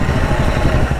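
Electric bicycle motor revving with a steady, loud mechanical whir and rattling buzz, continuous and close for about a second with no voices.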